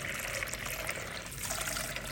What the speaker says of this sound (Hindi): और पानी आ रहा है